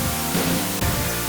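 Static-like music from the Road Rash II video game on the Sega Genesis plays as a loud, dense, hissing wash of noise with a faint underlying tonal pattern, continuous and without talking.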